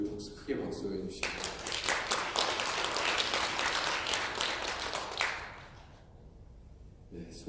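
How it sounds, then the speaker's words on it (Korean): A church prayer-meeting congregation breaks into loud, sustained applause that swells for several seconds and then fades out, with a voice speaking just before it starts. "우리 자비구역에 우리 크게 박수해 주시죠."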